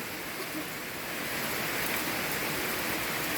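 Continuous broad hiss of rain falling, steady and even, growing slightly louder toward the end, with no talking.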